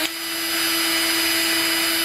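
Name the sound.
drill running in DIY cordless metal lathe build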